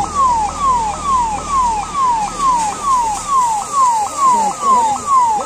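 An ambulance siren wails in a steady repeating cycle during an emergency simulation exercise for a forest fire reaching a village, loud and close, sounding alone without talk.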